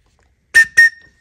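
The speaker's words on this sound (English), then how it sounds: "The whistle, again, it's affixed to the actual sheath. So I just put my mouth to it," A small whistle fixed to a knife sheath on a bugout necklace gives two short, loud, shrill blasts in quick succession, the second trailing into a thin fading tone.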